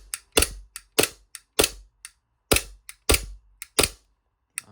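Lancer Tactical airsoft gun running on green gas fires about a dozen sharp, loud cracks in quick, uneven bursts, each shot snapping close by with short pauses between groups.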